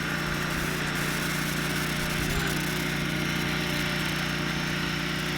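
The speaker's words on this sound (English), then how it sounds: "So we got a guy mowing the yard around here" A lawn mower drones steadily at a distance while mowing a yard outdoors, a constant low engine hum with no breaks.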